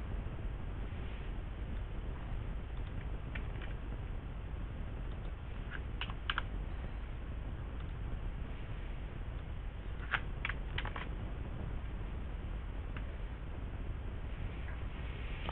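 Soft typing on a computer keyboard runs steadily, with irregular clusters of quiet key clicks and a few sharper taps over a low background hiss, and no one speaks.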